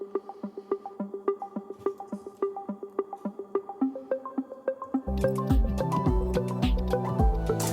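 Bouncy synth arpeggio leaping between upper and lower octaves of a chord's bass note, plucky repeated notes in a steady pulse, joined midway by fuller chords and heavy low bass for the ending section with piano.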